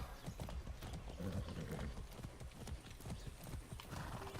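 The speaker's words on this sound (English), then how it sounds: "We're gonna ride a horse." Horse hooves clip-clopping in a steady galloping rhythm while riding in the video game Far Cry 6, close and fairly loud over a busy game background with a possible whinny.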